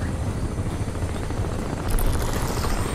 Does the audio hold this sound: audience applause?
no